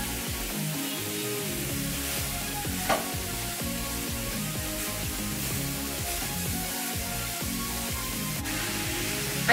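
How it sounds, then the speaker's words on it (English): Peeled, cut onions caramelizing in a pan for a cheese and onion quiche, giving a continuous soft sizzle with occasional stirring scrapes, close and steady throughout. "Now that I've peeled and cut the onions, I'm now going to go ahead and caramelize them"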